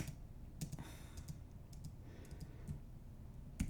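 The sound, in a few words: clicking a button with the mouse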